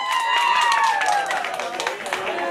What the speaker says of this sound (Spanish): Aplausos para Gabriel.